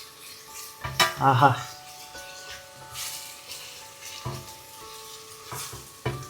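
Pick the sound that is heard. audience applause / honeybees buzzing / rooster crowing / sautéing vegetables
sautéing vegetables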